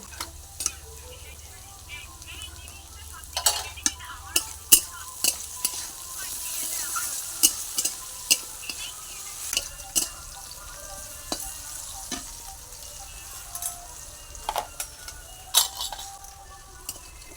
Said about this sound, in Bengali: তারপরেই আমি চিচিঙ্গে আর আলু ভালো করে লাল লাল করে ভেজে নেব।